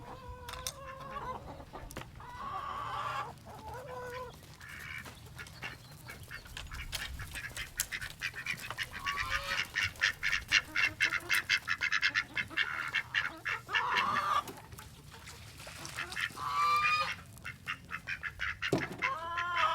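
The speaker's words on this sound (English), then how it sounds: "behind me are all of our little chickens, and we've got a couple ducks and a couple geese" Chickens, ducks and geese on a backyard homestead, a busy chorus of clucking and crowing with quacks and honks, rapid bursts of calls building in the middle, moderately near with no talk.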